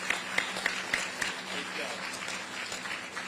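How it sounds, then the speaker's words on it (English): An outdoor crowd applauds a guest at a ferry terminal opening, steady moderate clapping with a few sharper claps near the start. "a round of applause"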